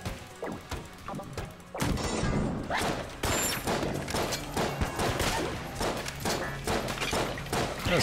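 Shotgun Full of Love blasts in Enter the Gungeon, a run of loud punchy shots and crashing impacts in quick succession after a quieter opening, with game effects and music around them.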